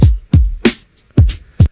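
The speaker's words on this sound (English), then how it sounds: "and you get all the drums here" Drum tracks separated from an AI-generated song: a punchy sequence of about six kick and snare hits with crisp attacks, evenly spaced and up close, with short silences between strikes.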